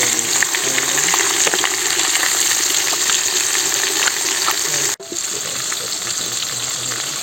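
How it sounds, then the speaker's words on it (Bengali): A large whole fish deep-frying in plenty of oil in a wok gives off a loud, steady sizzle and crackle that runs the whole time, with a brief dip just before the end. "এই যে মাছ ভাজি হয়ে যেতেছে"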